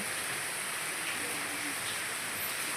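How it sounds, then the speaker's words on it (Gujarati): Heavy rain has been falling for two days, heard as a steady, dense hiss of downpour that fills the whole stretch evenly, with no gaps or distinct drops standing out. "આજ તો બે દિવસથી વરસાદ જોરદાર પડે છે"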